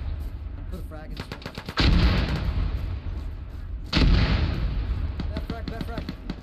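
A frag grenade detonates in the military shooter Arma during a ShackTac squad assault on buildings, two heavy close booms breaking through rattling gunfire while voices talk over the combat.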